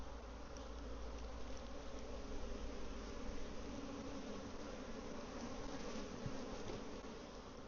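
A dense, steady buzz of many honeybees at a hive droning continuously up close, humming evenly without pause.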